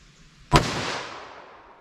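A single loud shot from a single-action .44 Magnum revolver, one sharp blast with a long, fading outdoor echo, alone without talk.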